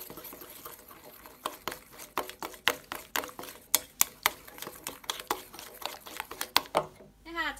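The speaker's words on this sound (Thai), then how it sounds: "ก็ตีผสมให้เข้ากันนะคะ" Two tablespoons of wheat flour are whisked into a batter for agetama, the fried tempura bits used in takoyaki, giving quick, irregular clicks and taps of the whisk against the bowl.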